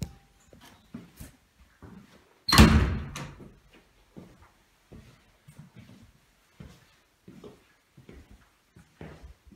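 A house door is opened with a sharp latch and swing, followed by faint creaks and light steps in a quiet room beside a newly built extension on a farmstead.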